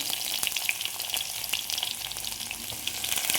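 Ginger and finely chopped garlic fry in hot coconut oil in a clay pot, a steady close sizzle with light crackling pops throughout.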